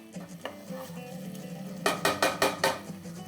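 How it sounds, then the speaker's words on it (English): Ingredients being stirred in a cooking pot with wine for pasta fagioli, a low simmering bubble under scraping and a quick run of sharp utensil clanks against the pot near the end. "we keep stirring to incorporate all the ingredients together"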